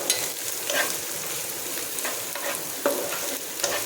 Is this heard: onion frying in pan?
yes